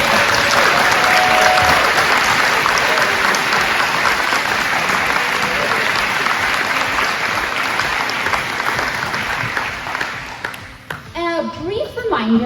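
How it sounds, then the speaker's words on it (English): A large school audience at a back-to-school night gives loud, sustained applause for faculty and staff, dense clapping that thins out near the end as voices begin to emerge. "please give a huge round of applause to our fabulous faculty and staff"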